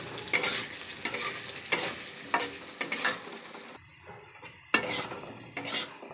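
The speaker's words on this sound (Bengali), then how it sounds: "এখন দিয়ে দেবো আলুগুলো। অল্প হলুদ গুঁড়ো দিয়ে ভেজে নেব।" Potato pieces with a little turmeric powder fry in a pan while a spatula scrapes and clinks against the metal in repeated strokes, each one lifting a burst of sizzle over a softer frying hiss, close and fairly quiet.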